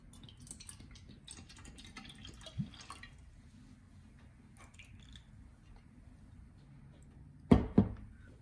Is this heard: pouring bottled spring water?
yes